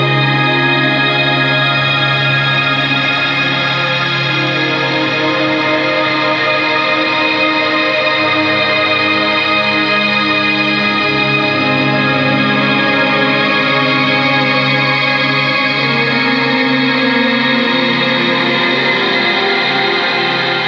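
A loud, sustained ambient wash of guitar through a hall reverb pedal with shimmer, tones smearing into a long, shimmering hall-like decay with no pause.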